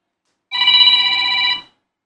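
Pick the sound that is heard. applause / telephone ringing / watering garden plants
telephone ringing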